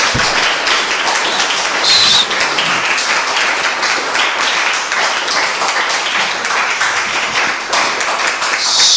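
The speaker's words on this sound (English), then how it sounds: "Can we all have a round of applause for our speaker?" An audience gives a sustained round of applause for a speaker at a talk, dense clapping filling the room steadily throughout.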